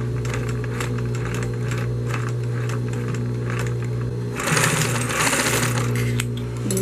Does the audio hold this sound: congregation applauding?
no